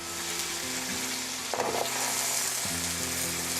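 Shrimp and mussels go into a paella mixta pan and sizzle in a loud, continuous fry close by, with a brief clatter as they are dropped in and stirred, and no talk.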